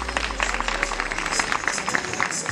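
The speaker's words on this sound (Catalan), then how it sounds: "Un fort aplaudiment." Steady applause from an audience at a high school graduation ceremony, many hands clapping evenly with a crowd murmur, moderately loud and sustained throughout.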